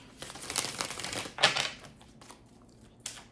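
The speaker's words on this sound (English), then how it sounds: "Just showing me shuffling" Tarot cards are shuffled in a few quick, crisp riffling bursts close by, separated by soft rustling and brief pauses.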